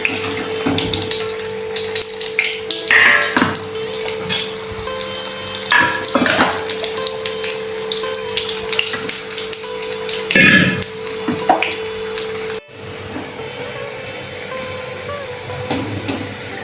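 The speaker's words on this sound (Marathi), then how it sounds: "छानपैकी भजे तळते पूजा" Spinach pakoras (bhaji) fry in hot oil in a home kitchen, a steady sizzle running throughout, broken by intermittent clinks and handling clatter, with a constant hum underneath.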